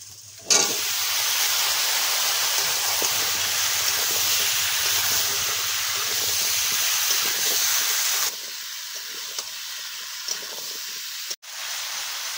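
Pumpkin pieces frying in oil with Kashmiri chilli, coriander and other ground spices, a loud steady sizzling hiss that drops a little partway through and carries on with no talking.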